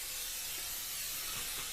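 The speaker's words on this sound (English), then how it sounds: "spray your surface so the fries don't stick" A steady hiss of cooking oil spray coats a baking surface for fries, continuous and close for the whole short burst.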